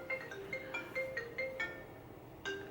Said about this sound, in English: my phone is calling.